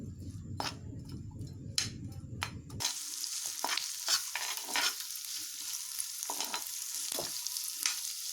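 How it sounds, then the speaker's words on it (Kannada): Onion frying in oil in a pan for egg masala sambar, heard as a loud bubbling sizzle with several sharp scraping stirs, then a brighter crackling hiss broken by frequent clicks of the spoon against the pan. "ಈರುಳ್ಳಿ ಕೆಂಪಗೆ ಸ್ವಲ್ಪ ಫ್ರೈ ಮಾಡ್ಕೊಳ್ಳೋಣ."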